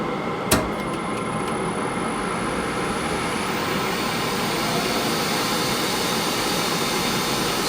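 Lathe motor fitted with a Clough42 electronic leadscrew starting up and running, a steady loud broadband hum with a single click at the start, continuous and close, no talking.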